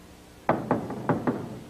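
Someone knocks on a door, four sharp raps in quick uneven succession, close and distinct against a quiet background with no talking.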